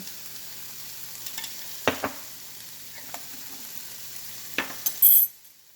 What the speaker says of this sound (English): this is sauteing very nicely